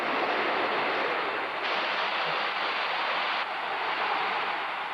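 Raging floodwaters of the Cedar River roar in a continuous, dense wash of rushing water, loud and steady throughout with no voices.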